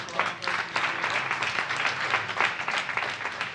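A crowd at an outdoor opening event for a Fresh & Easy grocery store in Bayview claps in a moderate round of applause, individual hand claps audible in an uneven, continuous patter, with no talking over it.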